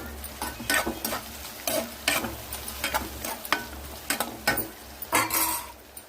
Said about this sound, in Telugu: దీంట్లోనే కొంచెం పసుపు వేసుకోవాలి ఒకసారి కలుపుకోండి